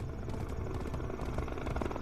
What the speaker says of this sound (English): The helicopter, carrying Kevin, Brett, and Katja, soared through the sky.